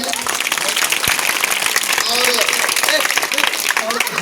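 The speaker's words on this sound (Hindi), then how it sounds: "हेडमास्टर साहब के लिए एक बार ताली बजाइए।" An audience at a Mithila festival gathering in Madhubani applauds for a school headmaster, dense steady clapping from a crowd throughout, near and loud, with voices talking over it and a speaker's voice rising near the end.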